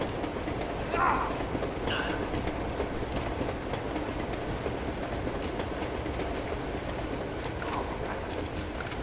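A moving train in the video game Uncharted 2 rumbles continuously with rhythmic clickety-clack, close and steady, with faint voice-like sounds and brief clatters above it.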